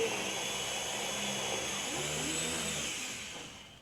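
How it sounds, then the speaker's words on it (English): A blender whirs steadily while blending chopped chicken pieces in a school chemistry lab, a loud, even motor whine that winds down near the end, with faint voices behind it. "and then we have to blend it"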